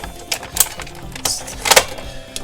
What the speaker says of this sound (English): the one in the middle fires off two hidden guns on the side that pop out, which is really cool and have that noise